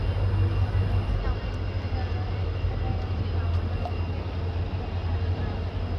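A diesel locomotive throbs low and steady as an intercity express train pulls out of a station in the Dooars forest region near Siliguri, its engine rumble constant and close throughout.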